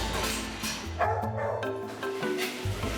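Several dogs bark and yip in kennels at feeding time, sharp close barks in quick bursts with a whimpering tone, filling the short stretch without talk.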